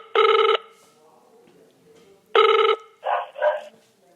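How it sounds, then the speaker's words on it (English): A telephone rings on a podcast call, two loud, even buzzing rings a couple of seconds apart. A short voice is heard just after the second ring. "It's ringing."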